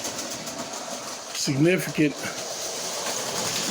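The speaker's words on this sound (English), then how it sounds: "You hear, no doubt, that engine running." A model train engine runs on a layout track, giving a steady mechanical whir and hiss underneath someone talking throughout.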